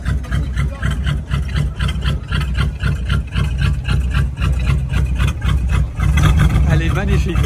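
A Renault Dauphine Gordini engine idles at a classic car gathering with a steady, low, throbbing pulse, close and continuous beneath people talking.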